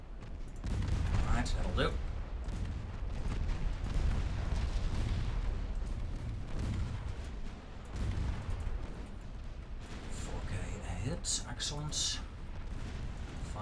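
Naval gunfire in the warship game Ultimate Admiral Dreadnoughts, cruisers firing on a destroyer, with a dense rumbling roll of cannon blasts and booms, loud and continuous, under a man's brief spoken remarks.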